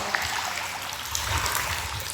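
Water trickles and drips from the rock inside a sea cave at Sandford Island in Barkley Sound, a soft, continuous splashing wash with scattered droplet ticks close by.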